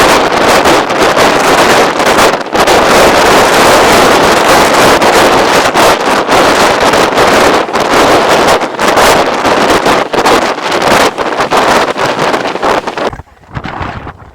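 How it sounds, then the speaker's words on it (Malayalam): Very strong wind at Kanyakumari roars and buffets the microphone without letup, loud and close, with gusts surging and dropping and a brief lull at the end. "ഭയങ്കര ഭീകരമായിട്ടുള്ള കാറ്റ്"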